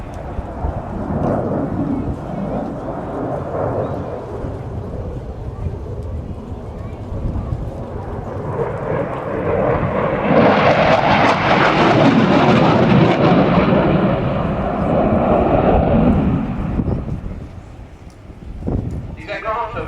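A French Air Force Dassault Rafale fighter jet flies a display, its broad roar swelling loud and close over about twenty seconds before fading, with a narrator's voice running over it.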